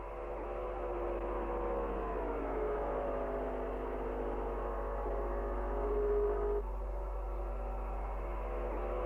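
Racing engines of 1957 Ferrari and Vanwall cars at the Monza circuit drone and shift pitch, rising then dropping, a continuous muffled roar at moderate distance in old recorded sound.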